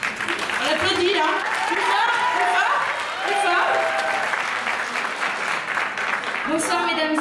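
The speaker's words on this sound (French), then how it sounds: "On applaudit là." Applause from the audience at a Miss Ronde pageant evening in Poitou-Charentes, a steady wash of clapping lasting several seconds with voices calling out over it.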